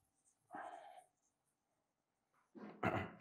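An eraser rubs across paper to clear part of a hand-drawn economics graph, heard as two short, close scrubbing bursts separated by quiet.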